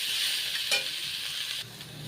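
Ingredients for a paneer vegetable curry frying in a pan, giving a brief steady hiss of sizzling oil with a single scrape of stirring, close by and fairly quiet.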